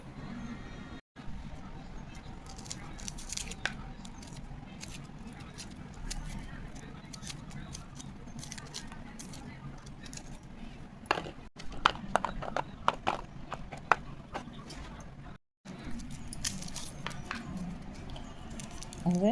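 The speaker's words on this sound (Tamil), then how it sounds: "ஒரு நூறு கிராம் சின்ன வெங்காயம் நம்ம கட் பண்ணி எடுத்துக்கலாம்" Small onions, about a hundred grams, are cut with a knife for tiffin sambar, giving quick light tapping and chopping knocks that cluster in bursts over steady low kitchen background.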